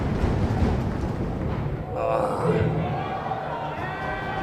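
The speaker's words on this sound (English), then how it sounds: "Crowd cheering him on a little bit" Crowd cheering and hyping up a BMX rider at the Battle of Hastings 2021 finals, a steady roar of many voices throughout with a brief swell of shouts midway, under commentator talk.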